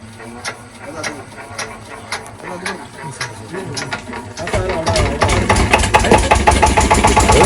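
An engine turns over and catches, its rhythmic chugging growing louder and steadier while people talk nearby.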